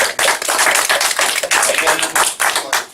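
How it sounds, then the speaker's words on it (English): Steady applause from a crowd, dense overlapping claps continuing throughout at an even, loud level with no talking. "can I get a round of applause"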